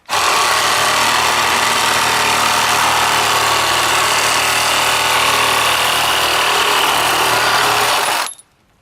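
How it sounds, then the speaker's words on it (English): Older Ryobi 18 volt cordless reciprocating saw cutting, a loud sustained buzzing rasp that starts at once, runs steadily for about eight seconds and then stops, with no speech. "For comparison with the older Ryobi 18 volt, we'll cut that, try to even that up."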